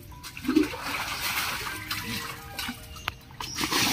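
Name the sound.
lots of water splashing and flowing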